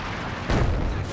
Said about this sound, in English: Incendiary artillery coming down.